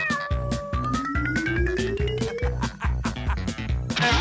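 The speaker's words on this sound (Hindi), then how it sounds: "ओह, शायद मेरी बिल्ली को खाने के लिए कुछ चाहिए।" A pet cat meowing in an animated superhero cartoon scene about pets, several rising, drawn-out meows heard over a loud, steady musical background throughout.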